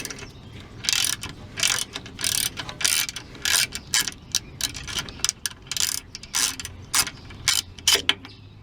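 A ratchet clicks in quick repeated bursts, close up, as a nut comes off a Ford F150 front shock, with short pauses between each run of turns.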